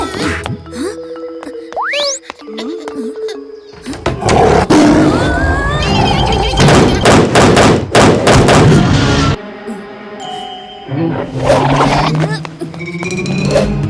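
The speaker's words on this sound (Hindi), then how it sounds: "बाहर भालू पीछे पड़ा है।" A cartoon bear roars loudly outside, with heavy bursts of roaring, crashing effects and dramatic background music filling most of the scene, a rising whistle-like tone early on.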